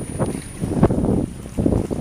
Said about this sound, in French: là il y a 26, 28 nœuds de vent en gros